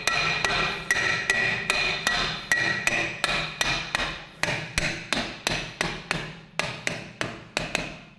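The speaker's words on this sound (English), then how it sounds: "I'm just going to give this a slight little tap with the hammer." A hammer taps repeatedly on a rear brake part of a Land Rover Freelander, about two metallic knocks per second in a steady rhythm, close and clear with no talk.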